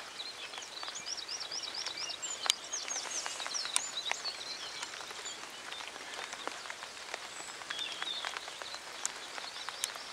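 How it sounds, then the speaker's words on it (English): Steady rain patters across a field, a soft even wash with scattered drop ticks, while birds call faintly now and then in the background. "you can hear the rain now"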